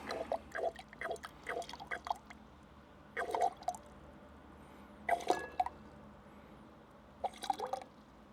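Water pumped through a portable water filter drips and trickles into a glass in short bursts separated by quiet pauses, close and fairly soft, with small splashes and plops.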